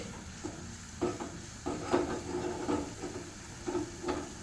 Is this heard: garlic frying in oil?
yes